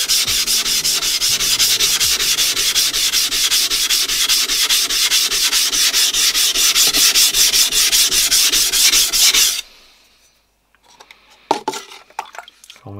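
A knife blade is drawn over a wet Naniwa Advance S2 #220 whetstone in steady, rapid back-and-forth gritty rubbing strokes, loud and close, for about ten seconds before stopping, then a few faint scattered taps follow.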